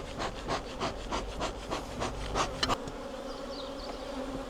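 Honeybees from an opened hive drone in a steady, close buzz, with individual bees swelling louder as they pass near, plus a brief scrape of hive wood partway through; no one speaks.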